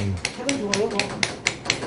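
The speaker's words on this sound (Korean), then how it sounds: "칼을 망치로 두드리는 각 작업" A mallet strikes the back of a carving knife cutting into wood, giving about eight sharp, evenly spaced taps at a steady rhythm, close up, while a person talks quietly underneath.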